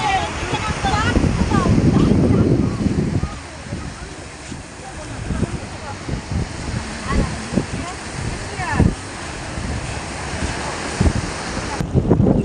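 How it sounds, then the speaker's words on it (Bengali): Sea waves crash one after another onto rocks at Digha beach, with strong wind buffeting the microphone; a loud surging roar at first, then continuous rushing surf with repeated splashes. "ঢেউগুলো একটার পর একটা পাথরগুলোর উপর আছড়ে পড়ছে"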